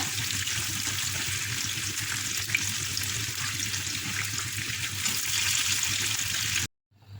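Purple eggplant fries in hot oil for balado, a steady close hiss and bubbling sizzle lasting several seconds before cutting off abruptly.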